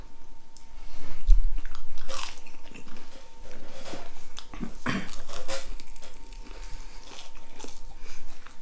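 Crunchy Burger King onion rings bitten and chewed close to the mic, with repeated crisp crunches and wet mastication noises running steadily throughout and one sharper bite near the middle.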